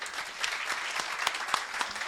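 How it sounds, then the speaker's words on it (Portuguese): A small audience claps steadily at a real estate presentation of the Edifício Horizon, with sharp individual claps standing out from a dense, even round of applause and no talking. "merece uma salva de palmas disso."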